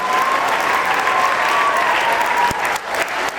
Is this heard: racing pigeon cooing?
no